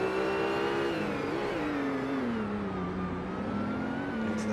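A Mercedes CLK GTR (Maures GTR) race car pulls out of the final corner at the Nürburgring in first gear, its engine note rising steadily and loudly in a continuous close drone, with no talk.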